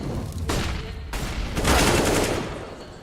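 Rapid MAC-10 submachine gun fire in a Counter-Strike match on Mirage, dense bursts of shots with a booming low end, loud and continuous over three seconds with a brief lull between volleys.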